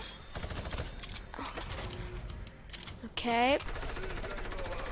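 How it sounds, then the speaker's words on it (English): Rapid-fire SMG bursts in a video game, several quick strings of shots mixed with game effects, with someone talking briefly over the action. "my favorite gun in this game, the rapid fire SMG"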